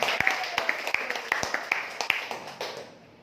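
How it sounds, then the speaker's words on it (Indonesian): Scattered claps from a small audience at a business presentation, a dozen or so distinct hand slaps at uneven intervals over a roomy echo, tapering off toward the end. "Ya, beri tepuk tangan buat Pak Anda semua"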